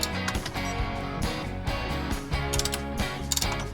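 A wrench works a bolt loose during flywheel removal on a small engine, giving a close series of uneven metallic clicks and ratcheting clacks with short pauses between bursts.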